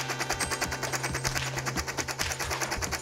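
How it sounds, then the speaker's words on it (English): An old-time gun fires in a rapid rattling burst of repeated shots that stutter and choke, loud and close, with no voices over it. "Sure enough, the old-time gun isn't built to fire at such a rapid rate."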